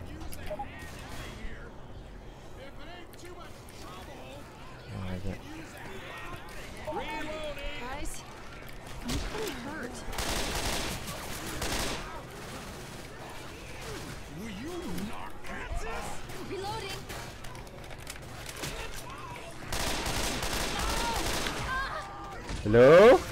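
Gunfire from Left 4 Dead 2 zombie co-op, bursts of shots scattered through the clip under near-constant game voices and player chatter, with a louder burst near the end.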